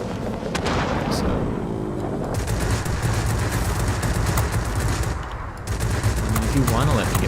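Rapid machine gun fire from aircraft in the World of Warplanes combat game, a dense continuous rattle with engine drone beneath, loud and sustained with a short dip before resuming.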